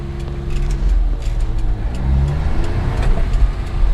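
A Suzuki Carry mini truck with a stalling-when-warm fault idles high and then pulls away, its small engine revving and shifting pitch in steady harmonic tones, close and loud, with no talking.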